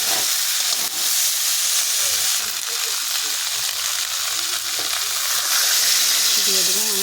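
Prawns and figs cooking in a curry in a pan, giving a constant loud sizzle and hiss with faint stirring underneath and no talking.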